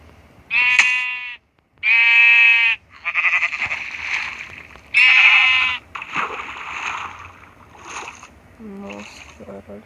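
Sheep in a video game bleat repeatedly and loudly up close, several long wavering cries separated by short gaps, with splashing and someone talking in between.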